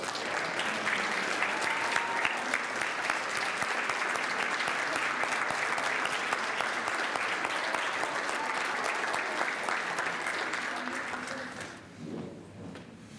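An audience at a sophomore student ceremony applauds the standing student nominees, a loud, steady round of clapping that carries on for about eleven seconds before fading out into quiet room noise.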